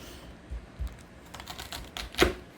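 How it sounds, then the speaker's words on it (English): Knife cutting through a fennel bulb on a cutting board, several soft crisp crunches and taps ending in a sharper chop, close and quiet with no talking. "I'm going to show you guys how to cut this up."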